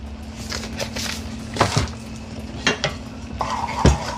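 A sauce is whisked together in a pot while making creamy mac and cheese, giving soft scraping and stirring strokes with a few louder clinks against the metal, close by and alone.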